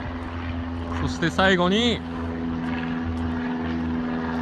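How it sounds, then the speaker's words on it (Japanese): A steady propeller drone hums throughout from small aircraft flying near an airport in Redwood City. Someone speaks briefly over it. "もう小型機がもうブンブンブンブン飛んでますからね"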